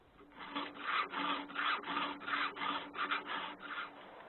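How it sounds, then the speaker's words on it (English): Steel file rasping a Logosol M7 sawmill chainsaw chain held fast in place: about eight even back-and-forth strokes in steady rhythm, close and moderately loud, with no voices. "The best way to file the chain is to fasten it like this."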